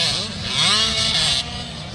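A small 85cc motorcycle engine revs hard with rising and falling pitch sweeps, loud and close, apparently during a youth motocross race where a young rider clears a triple jump.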